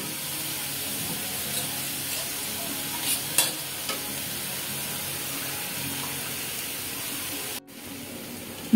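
Rice flour and ginger paste stirred into milk, poured into simmering radish greens in a pan, giving a steady, close hiss and bubbling with a few stirring scrapes and a brief pause near the end.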